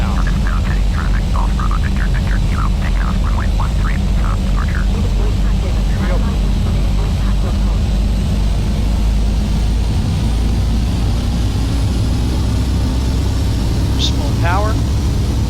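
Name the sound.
DHC-6 Twin Otter engines throttling up for takeoff, FSX video game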